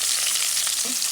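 Onion fries in a pan with green chili and salt, making a loud, dense, close-up sizzle that holds steady throughout the short moment.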